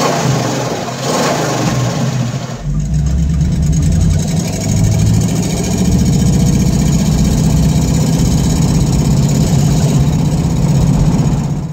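A 1969 Ford Mustang Fastback with a 351 Cleveland V8 starts and settles into a loud, rumbling idle. It holds a steady, throaty drone close to the microphone, with no talk.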